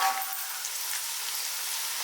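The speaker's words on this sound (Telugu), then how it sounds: "మనకి ఈ ఆనియన్స్ ఫ్రై అవ్వడానికి ఒక 2 to 3 minutes టైం పడుతుంది." Onions frying in hot oil in a pan, a steady, even hiss of sizzling with no break, fairly soft and close.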